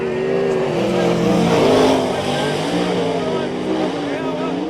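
Several sprint car engines roar together at high revs during a race in Palmerston North, a loud continuous mechanical howl with a shifting pitch, with talk over it.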